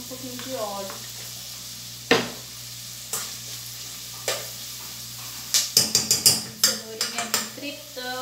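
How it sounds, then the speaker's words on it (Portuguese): Oil sizzles steadily in a pan of frying carrots while a utensil stirs and clinks against metal in a quick run of sharp taps, with no talking. "Cenourinha fritando já"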